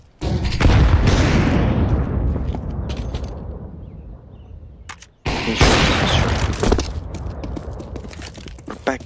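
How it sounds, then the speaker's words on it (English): Flashbang grenade going off in Counter-Strike 2, a loud burst followed by a long ringing wash that fades, then a second sharp blast around the midpoint with more gunfire-like clatter after it. "Deploying flashbang."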